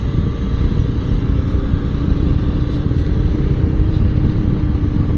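A motorcycle is ridden along a narrow mountain road, a continuous loud engine rumble mixed with heavy wind buffeting, steady throughout with no pauses.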